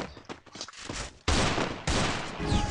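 Gunfire in a Free Fire Clash Squad match: scattered sharp shots come first, then two long, loud bursts of rapid fire crash in one after the other and dominate the end.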